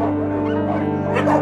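Several dogs yip and whimper in a sheltering cave among refugees, a continuous close chorus of small excited barks over a steady low hum.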